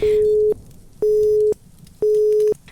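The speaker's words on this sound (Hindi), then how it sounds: "पर दूसरी तरफ से सिर्फ नॉट रीचेबल की टोन आती है।" Phone network-unreachable tone: three evenly spaced steady beeps, each about half a second long with equal gaps, clear and close with no talking.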